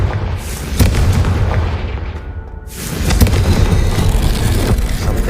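A Confringo blasting spell explodes in Hogwarts Legacy, giving loud, dense booming bursts over continuous rumbling battle noise, with sharp impacts near one second and again just after three seconds.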